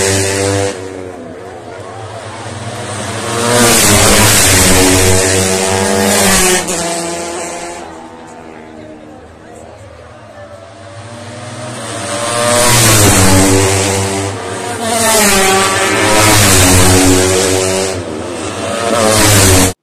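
Racing motorcycles at the La Bañeza grand prix roar past in repeated waves, engines revving high and loud as each bike approaches, then fading before the next passes close by.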